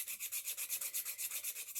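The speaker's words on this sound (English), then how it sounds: "So that's what I'll be sanding down smooth." Steady rhythmic rubbing strokes, about seven per second, a soft close scratchy hiss of sandpaper worked back and forth over wood.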